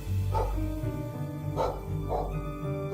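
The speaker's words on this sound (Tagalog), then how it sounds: "Ang aso, hindi tumitigil sa kahol." A dog barks at night, several separate woofs spaced irregularly over a low background rumble, moderately close and with no speech.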